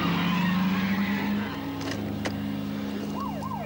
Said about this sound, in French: Une voiture répondant à votre signalement vient de débouler devant moi